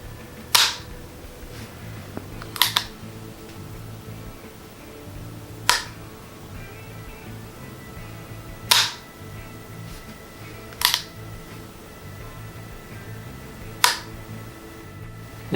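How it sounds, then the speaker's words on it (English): KE Arms AR-15 trigger at SHOT Show 2017, pulled and released in close-up: six sharp isolated clicks spaced roughly two to three seconds apart, some doubled as pull and reset, over a steady background hum. "Close-up of the trigger pull here."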